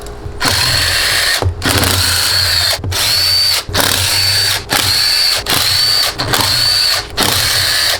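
A power drill works on a Honda CRF450 engine teardown, firing in about eight loud, close bursts of whirring, each separated by a brief pause.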